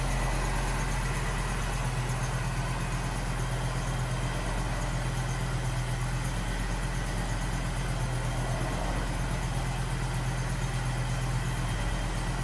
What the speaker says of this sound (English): the hydraulic lifter noise did quiet up after a minute or two of running